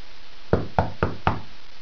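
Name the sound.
knocking on a door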